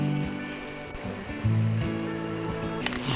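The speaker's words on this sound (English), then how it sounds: "Down there's Kanarra Creek that you hear. Little babbling brook." Kanarra Creek burbles as a small babbling brook in a red-rock canyon, a steady soft water wash with low rumbling under it.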